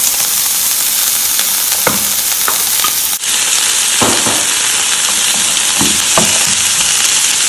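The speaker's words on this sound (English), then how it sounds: "And then you go ahead and add your pepper, tomatoes, and the carrots." Onions, peppers, tomatoes and carrots sizzle loudly in a pan for a plantain dish, a constant hiss with occasional scrapes and stirring clatters, and the frying noise grows brighter partway through.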